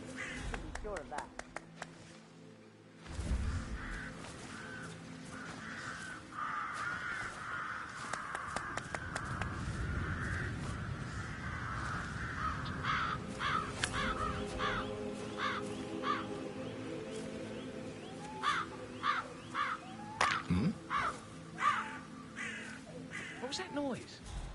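Crows caw repeatedly in the Hitman 3 video game, harsh calls scattered over a steady ambient game background, with a character's voice talking at times between the calls.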